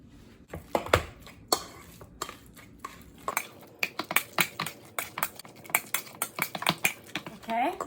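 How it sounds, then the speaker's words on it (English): Three bananas mashed in a bowl with a utensil, heard as a run of sharp clinks and scraping taps against the bowl, sparse at first and then a quicker, steady series of close strikes. "I'm going to mash the 3 bananas."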